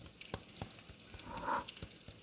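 Chickpea and black bean patties fry in a pan, giving a faint crackling sizzle with scattered sharp pops and a brief louder hiss midway, heard close and quiet.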